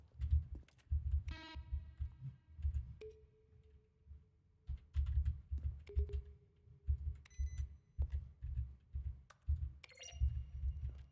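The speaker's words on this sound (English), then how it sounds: "A selection of the sounds used throughout the game when buttons are pressed. Each sound is a mix of a keyboard stroke and a synthesized tone." Button presses from The Stanley Parable video game, each a keyboard stroke blended with a synthesized tone, repeating in irregular clicky bursts with occasional short pitched beeps and chimes, clear and close, with no talking.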